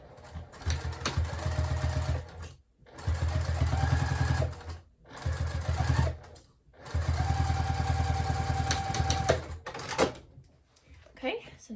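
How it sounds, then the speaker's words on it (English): A sewing machine stitches upcycled denim jeans into a bag in several bursts of rapid, close mechanical whirring and clatter. Short pauses separate the bursts, and there are soft handling noises between them. "Throw a few clips on it and sew that up."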